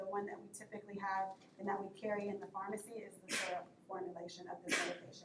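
A sneeze bursts out once during a pharmacy lecture, followed by a second short breathy burst, both mixed in with a continuous talking voice.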